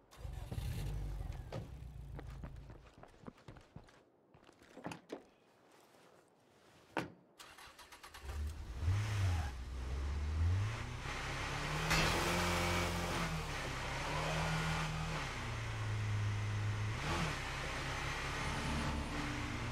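Car engine in the zombie survival game State of Decay 2, starting up and then running steadily at a moderate, even level with some revving, heard alone after a quieter, choppy stretch.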